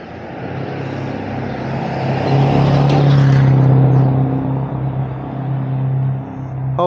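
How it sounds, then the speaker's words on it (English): Loud truck passing close by on a city street during a neighborhood walk in Paris; a heavy engine roar swells to a peak mid-clip, then fades as it moves away, with no voices. "Hopefully that truck wasn't as loud for you as it was for me."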